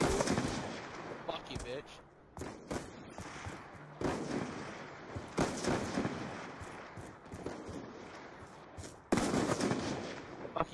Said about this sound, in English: there's people using a shotgun